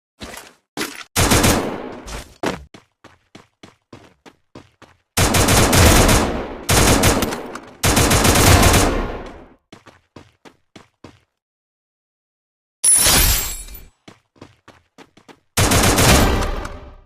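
Gunfire in the Free Fire video game: loud bursts of rapid automatic shots in several volleys, separated by sparse single shots and short silences.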